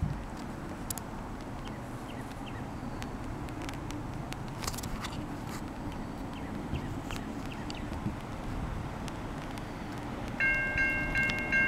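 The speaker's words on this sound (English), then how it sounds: "Norfolk Southern Intermodal." A Norfolk Southern intermodal freight train approaches in Holmesville, Indiana, a steady low rumble rising gradually over outdoor ambience, with a brief tonal horn-like sound entering near the end as the train draws closer.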